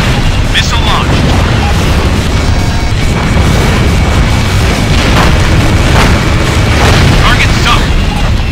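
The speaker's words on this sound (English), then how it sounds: "Missile launched." Missile launches and explosions from the jet combat game Ace Combat Infinity in a co-op battle form a loud, dense, continuous roar of booms and rumbling blasts with no quiet gaps.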